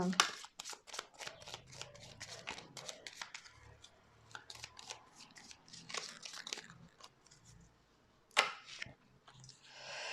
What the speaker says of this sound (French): on va faire le tirage en 9 cartes.